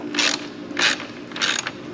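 Ratchet wrench clicking as it backs out 10mm bolts along the top of a Ford Bronco grille, three separate bursts of rapid ratcheting close up with brief pauses between, no talking.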